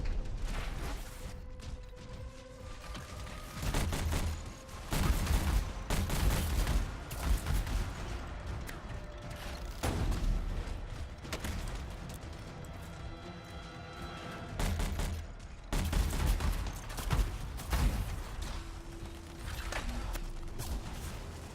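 Enemy gunfire in the shooter game Anthem, repeated bursts of shots and crashing impacts coming in waves over a low background of game sound.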